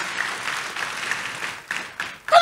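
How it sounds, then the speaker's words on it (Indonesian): Church congregation claps during a sermon, a sustained burst of applause that thins and breaks into scattered claps toward the end, with a voice rising briefly at the close. "Kasih tepuk tangan buat Tuhan Yesus"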